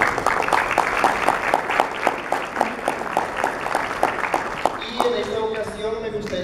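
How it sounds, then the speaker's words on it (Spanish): Audience applause at a tourism cooperation meeting, steady moderate clapping that gives way to a voice over a PA near the end. "Fuerte el aplauso para él."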